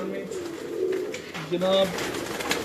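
Pigeons belonging to a Sialkot fancier coo in a low, rolling murmur, with someone speaking briefly over the birds.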